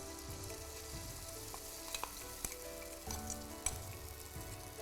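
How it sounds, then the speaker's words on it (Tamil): Ground rice batter for arasilai momos frying in hot oil makes a steady, dense sizzle with a few faint clicks of stirring, close and continuous throughout. "ஸோ இந்த எண்ணெயில் நம்ம அரைச்ச இந்த மாவை சேர்த்துக்கலாம்."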